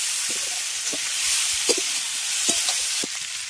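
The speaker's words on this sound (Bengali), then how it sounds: "ভালো করে সমস্ত সবজি কষিয়ে নিয়েছি" Mixed winter vegetables sautéing with salt in a pan give off a steady, close hiss and sizzle, broken by short scraping knocks as they are stirred.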